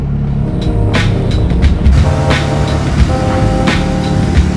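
A compound twin-turbo Honda Civic D16 engine runs hard on a dyno, a loud, steady mechanical roar with droning harmonics and no letup across the whole stretch.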